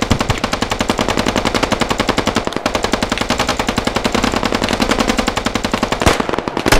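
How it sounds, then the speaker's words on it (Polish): Gunfire in the military shooter game Squad, a loud, close burst of sustained automatic machine-gun fire with rapid, evenly spaced shots running almost continuously, with no voices over it. "Kurwa, ale strzelają."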